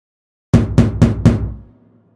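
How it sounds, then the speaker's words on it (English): Four sharp, evenly spaced knocks on a door land close and loud after a moment of silence, each a solid thump with a short decay, the last one fading out over about half a second. "Tom knocked on the door."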